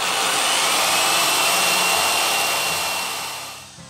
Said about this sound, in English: Let the drill do the work slowly.